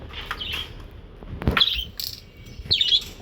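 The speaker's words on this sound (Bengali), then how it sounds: "পাখিদেরকে দেখো।" Birds on a rooftop, being fed, give a few sharp high chirps and tweets in short bursts, close by, over light background noise.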